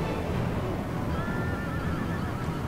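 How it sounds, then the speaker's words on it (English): Horses whinny and neigh during a cavalry charge in a fantasy battle strategy game pitting Dale against dwarves, the calls rising over a dense, constant roar of combat with no talk. "he sends horse into them. The rest of his horse units."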